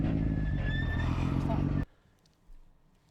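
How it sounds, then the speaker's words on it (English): A Praga Bohema hypercar, its engine originally from a Nissan GT-R, roars loud and close with a rising whine on top, then cuts off sharply after about two seconds, leaving only faint background noise, with talk mixed in. "That sound, you would never even guess without reading that came from a Nissan GTR originally"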